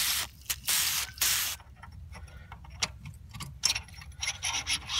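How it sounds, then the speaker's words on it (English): Lubricant is sprayed onto a drill bit during a spark plug blowout repair on a Ford 5.4 Triton engine, in a few short, hissing aerosol bursts at close range, followed by quieter rubbing and handling noises. "Go ahead and lube up the bit."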